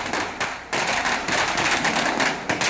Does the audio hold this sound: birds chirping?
no